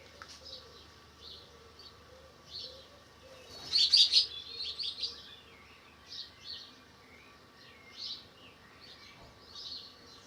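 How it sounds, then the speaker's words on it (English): Swallows chirp outdoors on a countryside walk near Arundel: short, thin twittering calls scattered across the stretch, mostly soft, with a brief louder flurry near the middle over faint buzzing. "Swallows today."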